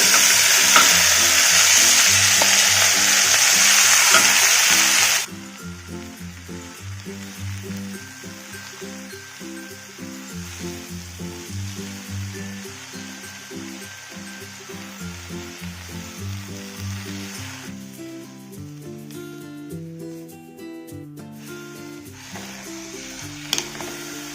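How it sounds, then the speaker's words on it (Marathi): A bunch of finely chopped fenugreek leaves hits hot oil already frying cumin and garlic. A loud, bright sizzle drops suddenly to a softer, steady crackle, with faint stirring scrapes through the rest and no speech. "आपले जिरे आणि लसूण तेलामध्ये छान भाजलेलं आहे यामध्ये मी आता ही बारीक चिरून घेतलेली मेथी घालणार आहे"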